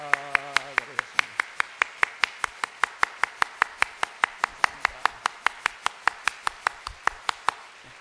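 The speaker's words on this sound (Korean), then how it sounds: "우리 박수로 환영하겠습니다" A church congregation claps in unison to welcome a newcomer, about thirty sharp, evenly spaced claps in a steady fast rhythm; a voice speaks briefly at the start before the clapping takes over.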